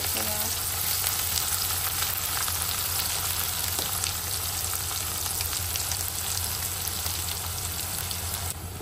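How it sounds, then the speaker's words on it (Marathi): Cumin, onion and chilli frying in a pan for aloo poha, giving a steady, close sizzle with dense crackling that runs unbroken throughout. "आता यात जिरा आणि तसेच कांदा आणि मिरची टाकून घ्यायचं यात."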